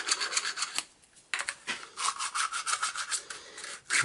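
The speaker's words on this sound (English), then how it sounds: "So we can go ahead and deburr it real quick." Acrylic hardline tubing gets its freshly cut end deburred, scraping around the inside and then the outside in short, close rasping strokes with brief pauses between passes, no talking.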